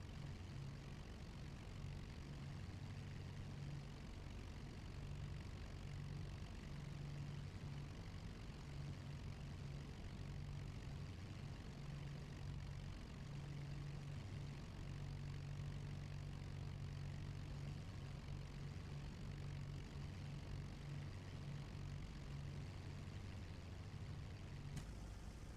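Piston engines of a Lancaster bomber in a flight simulator idle and rumble steadily as it taxis onto the runway, a continuous low drone without talk.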